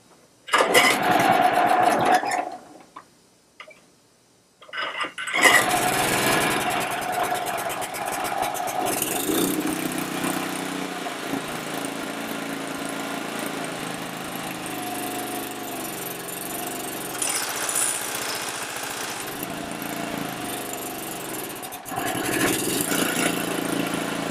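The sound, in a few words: lawn mower engine starting and running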